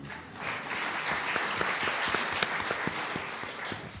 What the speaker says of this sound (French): Ça s'applaudit, le don, comme ça.